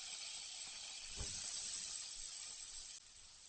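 Two sprigs of curry leaves hit 3-4 spoons of hot oil, giving a soft, steady sizzling hiss with a brief louder crackle early on, fairly faint and with no talking.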